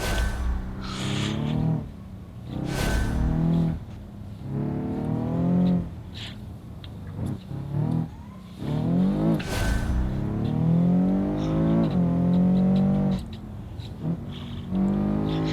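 A car racing around an Italian port in the video game BeamNG Drive gives repeated revving engine notes that climb and drop through gear changes, loud and continuous, with tire noise between bursts and no talking.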